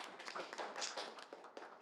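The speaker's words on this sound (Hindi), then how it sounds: "इसके लिए ताली आप बजाएं प्लीज" Audience applause at a Hindi film press conference for Interrogation, a dense, fairly faint patter of hands clapping that runs steadily through the whole short stretch.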